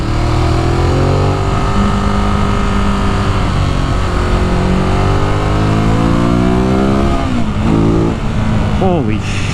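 A 2018 Ducati Monster 821 motorcycle ridden in sport mode, its engine droning loud and close with rising and falling revs and quick throttle blips near the end, wind noise steady throughout.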